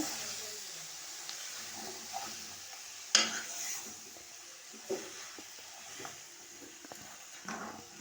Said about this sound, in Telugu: నెక్స్ట్ చికెను చికెన్ వేసాను ఇలా మంచిగా కలుపుకోవాలి